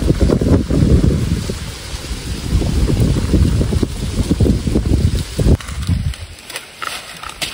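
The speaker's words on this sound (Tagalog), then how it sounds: "Ayan, lakas ng hangin." Strong wind buffets the microphone in loud, rumbling gusts that continue throughout, without any voices, on a mountain cornfield farm.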